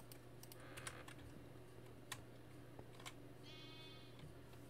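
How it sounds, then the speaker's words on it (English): A sheep in a video game gives a faint, short bleat under steady computer keyboard clicking and a low background hum. "Here, sheep."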